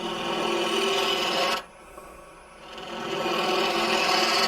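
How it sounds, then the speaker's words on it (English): A bowl gouge cuts into wood spinning on a lathe while a simple box is turned, giving a steady close rasping scrape that breaks off briefly mid-clip, then resumes. "Obviously a bowl gouge cuts good there."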